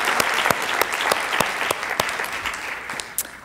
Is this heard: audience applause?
yes